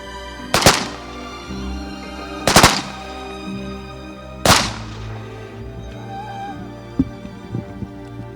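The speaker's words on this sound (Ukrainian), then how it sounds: "Під звуки потрійних автоматних залпів почесної варти домовину з тілом загиблого на війні з російським ворогом українського армійця поклали до могили." Honor guard at a Ukrainian soldier's funeral firing triple volleys of automatic rifle fire: three loud, sharp volleys about two seconds apart, followed by quieter outdoor ambience with faint distant thumps.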